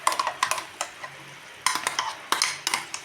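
Metal spoon clinking and scraping against a pan as apple-beetroot paste goes into melted sugar for homemade jam, in irregular bursts of sharp taps with faint sizzling between them.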